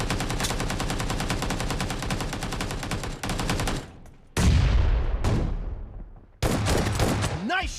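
Gunfire from a shotgun in a shooting video game: a long run of rapid, dense shots, then a few heavy single blasts with short gaps and decaying echoes, loud and close.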